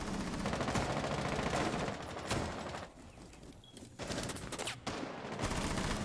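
Rapid automatic gunfire punches through a wall in Rainbow Six Siege, fired by Bandit from the stock door during a competitive esports match, loud bursts broken by brief pauses.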